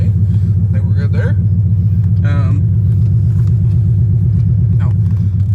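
A loud, throbbing V8 idle from a Chrysler 300C's 5.7 Hemi fitted with long tube headers pulses steadily up close, a deep rhythmic burble with voices talking briefly over it.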